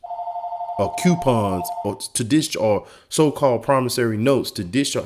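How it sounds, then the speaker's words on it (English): A telephone rings with a steady electronic tone at the start that continues faintly beneath someone speaking continuously and loudly over it. "Excuse my phone ringing"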